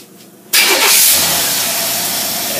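A car engine fitted with a Rochester single-barrel carburetor cranks and catches after a quiet moment, then settles into a loud, steady idle close by with no talk.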